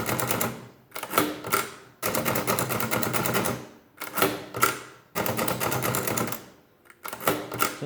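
Bursts of rapid key clacks from a Facit-style mechanical calculator, loud and close, arriving in several clusters separated by short pauses, with no talking.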